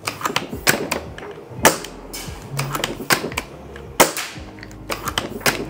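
A custom T10 Ragnarok airsoft sniper replica being tested with 0.20 g pellets through a chronograph, giving a series of sharp, close snapping shots spaced unevenly amid clicks and handling noise.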